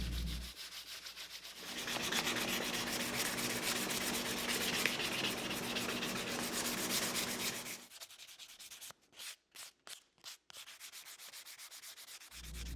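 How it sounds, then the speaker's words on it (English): Close, steady sanding of a wooden wall clock's outside edges, a continuous rubbing hiss for several seconds, then stopping, followed by a few short separate clicks or taps. "And a final sanding and rounding of all the outside edges."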